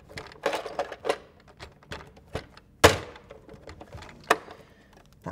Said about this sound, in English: let's pop my accessory tray back in